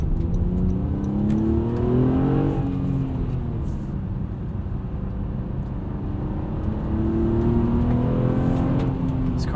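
A 2016 Honda Accord V6 coupe with a naturally aspirated engine and six-speed manual pulls hard under throttle, with a loud, steady engine drone that rises in pitch and shifts partway through. The sound continues without a break, heard close from inside the cabin.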